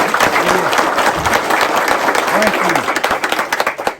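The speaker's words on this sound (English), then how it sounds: "let's just give a big round of applause for Steve for putting this together in the association" An audience at a hall of fame induction ceremony for Upper Cumberland racing gives a big round of applause, with dense, sustained clapping filling the room for about four seconds. Voices and cheers mix in before the applause begins to thin near the end.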